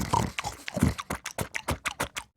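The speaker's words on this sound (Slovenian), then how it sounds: "Tako dobra si ti svinja." A pig grunts and oinks close up, a rapid series of short rhythmic snorting grunts that speed up and then stop, heard alone.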